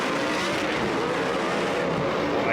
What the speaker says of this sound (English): just listen to those horsepower trucks, 950 horse to be exact